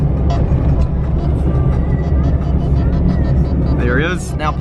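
A Mitsubishi Lancer Evo 5 engine accelerating hard with a loud, steady, close roar that holds without a gear change, and a brief rising whistle near the end.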